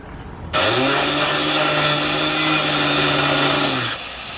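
An angle grinder cuts the seat mounts out of a project car in a workshop, one continuous loud whining grind of about three and a half seconds starting abruptly and cutting off, with a steady motor tone under broadband rasp.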